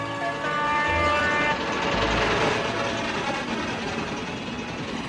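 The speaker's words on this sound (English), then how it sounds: "The Limited rushed by with a growl and a roar." A train roars past close by, its rumbling wheels and a sustained horn tone sounding loudly before fading into a steady rolling drone.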